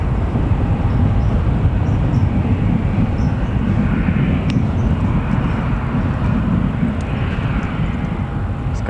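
A Jet2 airliner's engines roar during pushback at Newcastle Airport, a loud, steady low rumble heard from a distance and constant throughout.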